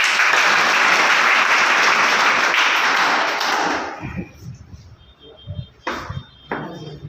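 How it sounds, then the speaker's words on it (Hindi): A crowd at an IMC business seminar breaks into hearty applause that holds loud and dense for about four seconds, then dies away into a few scattered claps and soft taps. "एक जोरदार ताली हो सकता है।"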